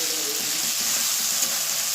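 Spice masala with green chili cooking in a pan, a steady close sizzle and fry hiss throughout with faint stirring underneath and no talk.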